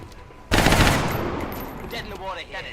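A weapon shot fired in XCOM Long War, a loud burst of gunfire that hits abruptly and decays into a rumbling tail, followed by softer mechanical whirring.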